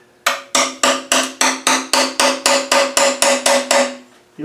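Thirteen sharp metallic hammer blows on a screwdriver prying off a tight petrol engine sump, in a steady, fast rhythm, each ringing briefly with a bright clang, close and loud.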